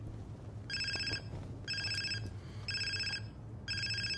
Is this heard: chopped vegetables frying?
no